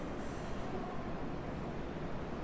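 A train rushing by as a sound effect in a subway horror story, a steady, loud, dense roar of wheels and rail rumble filling the whole stretch with no let-up and no voices.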